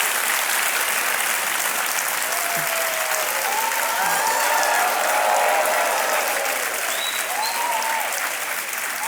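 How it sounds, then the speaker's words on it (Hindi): A studio audience on a televised quiz show claps steadily and loudly for about nine seconds, with faint musical tones and a brief voice beneath the sustained applause. "तालियां बजती रहें इनके लिए।"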